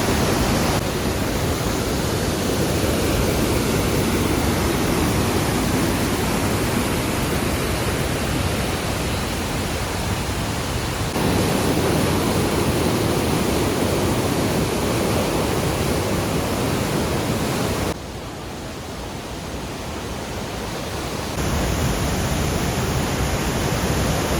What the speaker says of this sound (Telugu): రెండు రాక్స్ని చీల్చుకుంటూ మధ్యలోంచి జలపాతం అలా పారుతూ ఉంటుంది